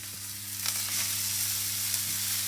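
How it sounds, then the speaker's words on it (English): Steady, crackling sizzle of burgers frying in hot oil in a pan, with occasional soft pops, close and constant. "You see, it's bubbling, sizzling away already."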